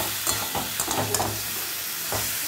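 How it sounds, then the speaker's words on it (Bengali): Fried potato and pointed gourd are stirred with spices in a pan over a low flame, giving a soft steady sizzle broken by a few scraping strokes of the spatula. "এবার ভেজে রাখা আলু পটলটা দিয়ে মশলার সাথে ভালো করে কষিয়ে নিচ্ছি।"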